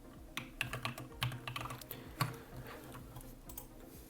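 Typing on a computer keyboard, a quick irregular burst of soft key clicks and taps up close, fairly quiet, with no voices.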